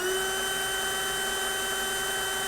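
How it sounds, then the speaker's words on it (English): A DeWalt cordless impact drill spinning freely at its lowest speed setting in drill mode, a steady, even motor whine holding one constant pitch throughout, close and alone. "So this is level 1 on normal drill mode"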